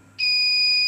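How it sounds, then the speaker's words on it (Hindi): An alcohol-detecting automatic engine lock system sets off its alarm: a sudden, steady, piercing electronic beep tone that holds continuously and loudly without a break. "इंजन स्टॉप हो गया, अलार्म बज रहा है"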